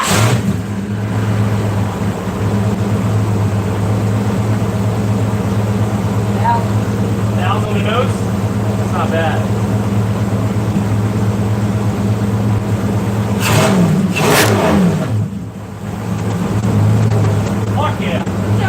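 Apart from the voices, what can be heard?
4.8 L engine started up, idling and revving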